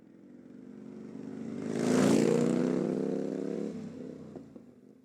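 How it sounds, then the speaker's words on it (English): A single large touring motorcycle approaches at high speed, its engine drone swelling steadily to a loud peak as it passes close by, then fading slightly; no voices. "It was the sound of a motorcycle engine, and it grew fast as it approached."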